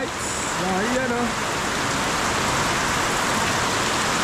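Steady rain pours down on a rainy day, a dense continuous hiss of drops on surfaces throughout, with a brief bit of a voice near the start.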